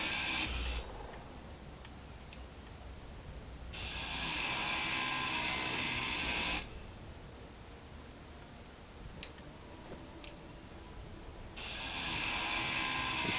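Grinder cutting off landing legs on a drop pod starter ship in the video game Space Engineers, bursts of harsh hissing grind lasting a few seconds each, three in a row separated by quieter gaps.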